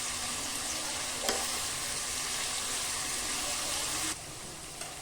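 Onions fry with salt in a pan for chicken curry, a loud, steady sizzle with a couple of brief stirring scrapes and a slight drop in intensity near the end.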